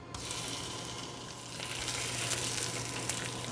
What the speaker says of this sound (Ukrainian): Отже, погнали смажити.